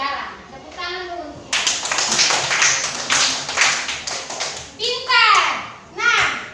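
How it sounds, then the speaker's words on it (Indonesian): A class of young children in an Indonesian classroom claps together in a dense, rhythmic burst lasting a few seconds, with children's voices and chanting before and after. "Tepuk tangan dulu."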